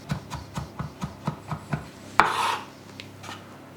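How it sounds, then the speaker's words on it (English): A knife chops garlic steadily on a wooden board in quick even strokes, followed by a scraping rasp, then a few more light taps. "keep chopping it till it's really fine"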